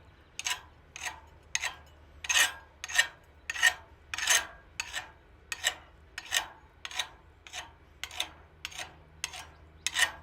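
A forged stainless steel tip is scrubbed clean of scale in a smithy. The rasping strokes repeat at a steady, even rhythm, about fifteen of them, close and clear with no voices.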